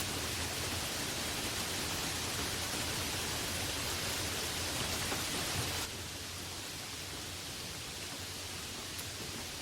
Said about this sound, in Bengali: প্রবল ঝড়ের সঙ্গে মুষলধারে বৃষ্টি শুরু হল